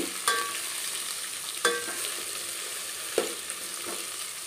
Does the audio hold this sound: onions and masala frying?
yes